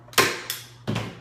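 Staple gun driving staples through fabric into a wooden crate seat: three sharp snapping shots spaced under a second apart, close and fairly loud, with a low steady hum beneath and no talk.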